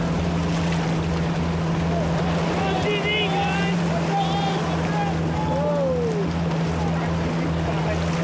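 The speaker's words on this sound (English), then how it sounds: "That's an aluminum boat." An aluminum jet boat's engine drones steadily over rushing river water and wind, with voices talking loudly over the constant noise.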